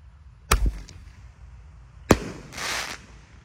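A jumbo 1.5-inch 8-shot Roman candle fires from a hole in the ground, two sharp thumping launches about a second and a half apart. A crackling hiss follows the second shot, with no talk.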